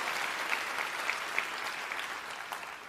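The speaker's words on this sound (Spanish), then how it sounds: "Vamos, iglesia, si vas a aplaudir, hazlo con ganas el día de hoy." A church congregation claps in steady, sustained applause, a dense wash of many hands filling the space from start to finish with no voices standing out.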